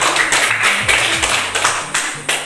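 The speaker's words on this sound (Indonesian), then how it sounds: "tepuk tangan untuk kelompok buah" A small group in a teacher-training classroom session claps for the fruit group after its presentation, a short burst of close, scattered hand claps over a low background hum.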